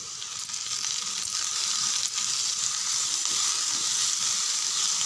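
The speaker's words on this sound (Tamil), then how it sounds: "இதை சேர்த்து நல்லா கொஞ்சம் வதக்க விடலாம்." Ginger, garlic and green chili paste with turmeric sautéing in a pan for a capsicum carrot gravy, giving a steady, bright, continuous sizzle with no talk.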